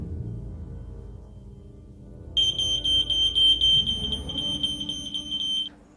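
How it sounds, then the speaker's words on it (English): A household smoke detector sounds off, a loud, piercing continuous electronic tone that starts abruptly after a quiet low rumble and holds for several seconds before cutting out, with no talking. "It would be wise to install smoke detectors inside your house as it would warn you in case of a fire."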